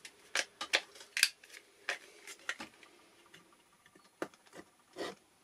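A rotary cutter slicing through fabric while sewing a small purse, heard as a series of close, crisp scraping and clicking strokes in an irregular rhythm, with brief pauses between cuts.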